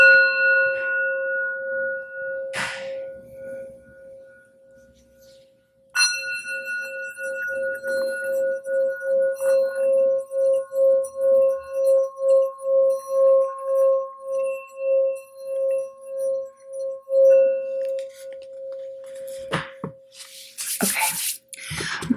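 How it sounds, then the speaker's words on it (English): A singing bowl is rolled around its rim, ringing with a steady sustained tone that swells in slow rhythmic pulses and grows louder, after an initial struck chime, with no talk over it. "Rolling the sound bowl, call in spirit and get started."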